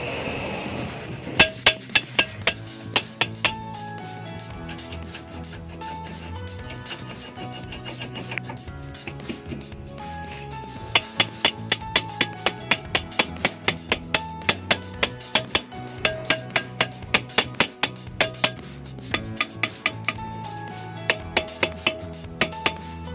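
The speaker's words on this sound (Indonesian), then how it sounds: "Kalau kurang masuk kita getok aja." A car's rear brake drum is knocked into place with repeated sharp metallic taps, in irregular bursts of rapid hits over a low background hum, close by and with no talk.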